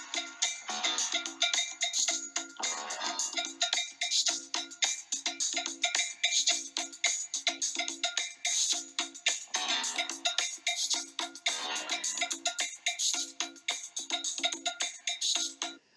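A celebrated 1979 funk hip hop recording plays at full volume, with bright, dense percussion and clanking cowbell-like hits driving a busy, continuous groove, without talk.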